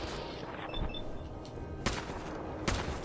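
Gunfire in the video game Fallout 4 cracks out in a few sharp, separate shots over a low, rumbling game soundscape, fairly quiet overall, with a couple of louder bursts near the end.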